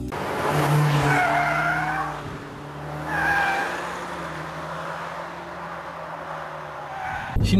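A petrol Mini Countryman 1.6 driving along, its engine note rising and falling through two revving surges over a steady road hum, fairly close and without voices.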